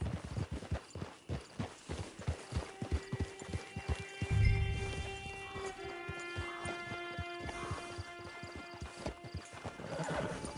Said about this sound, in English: Get your horse.